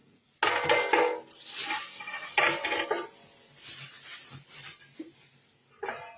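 A metal cooking pot pulled from a cardboard carton, giving loud clanks and rattles in bursts between rustling pauses, up close, with no talking.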